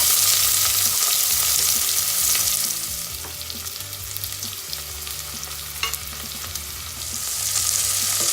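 Onions and garam masala fry in hot sunflower oil in a pressure cooker, giving a steady close sizzle with occasional stirring scrapes, fading somewhat midway before swelling again.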